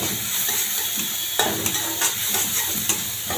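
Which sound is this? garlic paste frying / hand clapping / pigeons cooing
garlic paste frying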